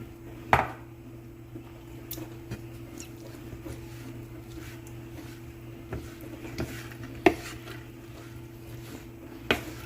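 Coleslaw being stirred in a bowl, with soft wet squishes and occasional sharp clinks and scrapes of a utensil against the bowl, set over a steady low hum.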